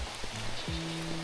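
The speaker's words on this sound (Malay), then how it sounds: "Hui, lebat hujan." Heavy rain falls steadily outdoors during a snakehead fishing trip, a continuous wash of drops with a few low tonal hums running through it, no talking.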